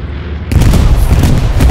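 A grenade blast in the World War II shooter Hell Let Loose, a sudden loud, heavy boom erupting after a quiet start and rolling on as a dense, rumbling roar to the end.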